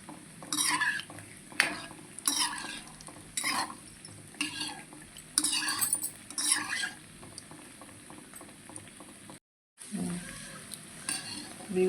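Spices frying in a pan for Andhra-style gongura chicken pickle, stirred steadily with scraping and clinking of a utensil against the pan, a continuous close sizzle with rhythmic bursts, briefly cut to silence near the end.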